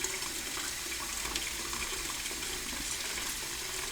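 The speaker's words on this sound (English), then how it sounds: "So I'm just getting some hot water here," Hot water gushing steadily from a kitchen tap, a continuous even hiss and splash with no talk.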